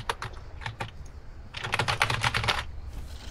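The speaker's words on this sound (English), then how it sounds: "It's just spamming every button on the keyboard." Rapid, uneven clatter of a computer keyboard being mashed across every key, short bursts of taps followed by a dense flurry of keystrokes, close and clear with no talking.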